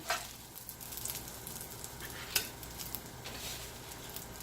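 Vegetables sautéing in oil in a pan, a faint steady sizzle with scattered light utensil taps and one brief sharper clink, heard close and without speech.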